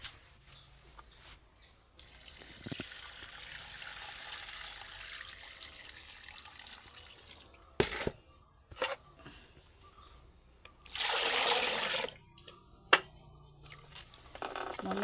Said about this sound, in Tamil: நல்லா 4 ட்ரிப்பு கழியும் போது இருக்கிற அழுக்கெல்லாம் போயிடும்